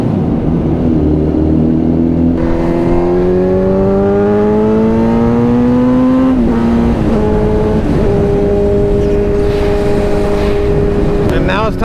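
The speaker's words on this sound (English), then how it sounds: "Underpass exhaust." A car exhaust revving inside an underpass, loud and echoing, with rising engine pitch sweeping upward over several seconds, then settling into a droning tone with quick blips at the end.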